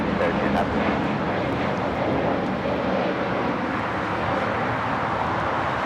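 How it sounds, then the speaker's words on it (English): An EVA Air Cargo Boeing 777 freighter on short final approach at Los Angeles LAX, giving a steady, broad jet engine roar that holds loud and even throughout, with no clear rise or fade. "We have an EVA Air Cargo 777 freighter on short final."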